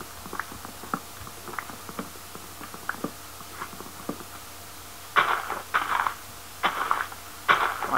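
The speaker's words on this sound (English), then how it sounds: "Why do I hear a slime?" Squelchy slime hops from a Minecraft mob in a modded Feed The Beast world, a run of soft wet plops and thuds at moderate distance, followed by louder bursts of noise near the end.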